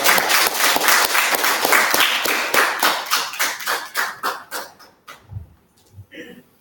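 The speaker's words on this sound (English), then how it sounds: "So let's give a round of applause for Jessica." Applause from a small audience starts full, then thins into scattered individual claps that slow and fade, followed by a brief murmur of voices.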